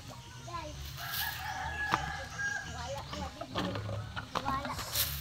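Rooster crowing outdoors at a moderate distance, a drawn-out call rising over a noisy background, with people talking nearby throughout.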